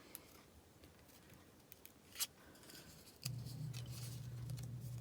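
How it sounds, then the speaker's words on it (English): Scissors fussy-cutting a paper card piece, giving quiet, close snips against a soft background hum. "So then I'm just going to finish with the fussy cutting."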